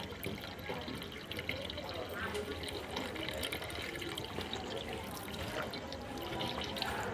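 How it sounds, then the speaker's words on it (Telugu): Water is poured into the inlet pipe of a 0.5 HP household water pump, making a faint, steady rushing and trickling that continues without a break. "ముందుగా దీంట్లో మనం వాటర్ని అయితే నింపాలి."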